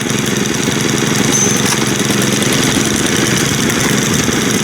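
Three new Stihl string trimmers idle together in a steady, buzzing drone with a slight whine, loud and close, no voices.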